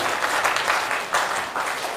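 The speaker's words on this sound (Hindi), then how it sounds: "और ये होती है ताली, इसको ताली कहते हैं" A crowd claps steadily at a religious gathering, a dense wash of hand claps with surges in intensity, fairly loud and close, no voices standing out.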